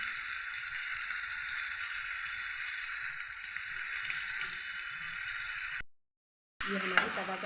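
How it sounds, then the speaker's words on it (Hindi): Kaleji, pieces of liver, frying and sizzling on a tawa with chillies added, a steady loud hiss that runs unbroken, then cuts out briefly and comes back with a few small clinks. "ये देखें हमारी तवा कलेजी कितनी अच्छी से तैयार हो रही है।"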